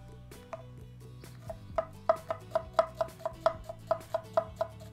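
Knife chopping red onion on a board, a steady run of sharp, close taps speeding into an even rhythm of about a dozen cuts, alone over a low background hum.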